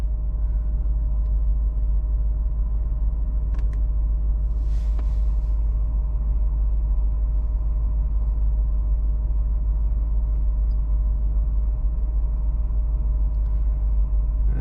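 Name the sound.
Audi 4.2 V8 40V engine idling, warmed up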